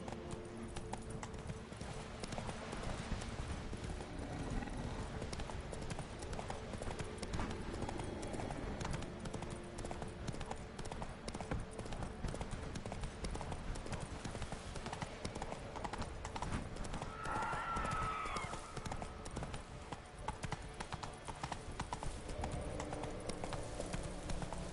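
Roach, the horse in Witcher 3, runs with a continuous rapid clip-clop of hooves, loud and close. A brief thin tonal sound rises over the hoofbeats near the end.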